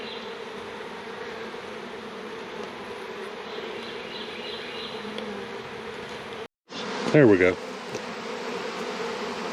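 A dense, steady hum of many honey bees buzzing close by at an open hive throughout, briefly broken by a short voice and a sharp clatter.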